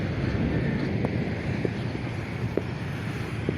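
A small fishing boat's engine runs steadily as the boat heads out to sea, a constant low rumble mixed with wind buffeting the microphone and a few faint knocks.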